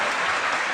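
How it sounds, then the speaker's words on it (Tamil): Audience applause at a Tamil debate-style stage event, a dense, steady wash of many hands clapping, fairly loud and uninterrupted for under a second. "பருப்புக்கு மட்டும் இவ்வளவு கைத்தட்டல் கொடுக்குறீங்க?"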